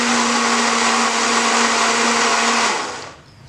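Mixer grinder whirring steadily as it blends carrot, almonds, sugar and milk, a loud continuous motor drone heard alone that cuts off and winds down near the end.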